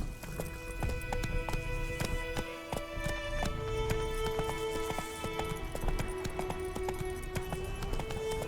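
Horse hooves clip-clop steadily in the video game The Witcher 3: Wild Hunt, a continuous rhythmic patter mixed with game music and ambient tones, moderately loud throughout.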